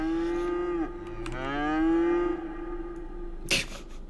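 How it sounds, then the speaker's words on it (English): A cow in the city-building game Cities: Skylines lets out a long, close, loud moo that bends in pitch, followed by a second drawn-out moo, with a short sharp noise near the end. "That is an excited cow."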